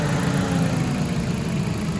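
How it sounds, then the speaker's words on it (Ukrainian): A Ford C-Max 1.6 MPI engine idling quietly, a steady low smooth hum with faint vibration and no variation, heard alone up close. "Двигун працює тихенько, без нарікань"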